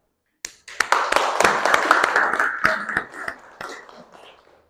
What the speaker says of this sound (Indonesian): Mari kita beri apresiasi dengan tepuk bersama.